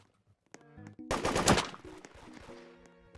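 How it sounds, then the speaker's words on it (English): AK rifle fire in the Roblox game Da Hood, a quick burst of shots crackling close and loud amid game sounds and faint music, with no talk over it. "Try and shoot him with that AK."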